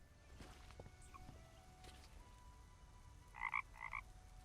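A musical frog in the video game The Night of the Rabbit croaks twice near the end, two short bright tonal calls close together, over quiet ambient background with faint clicks.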